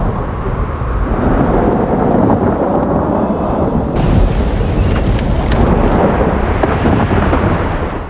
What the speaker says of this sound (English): The wind is blowing them toward the heart of the storm.